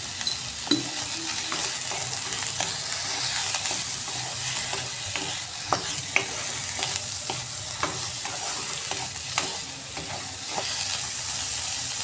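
Eggplant for a rohu fish curry sizzles steadily in a hot pan of oil while a spatula stirs it, with scattered scraping clicks against the pan running throughout.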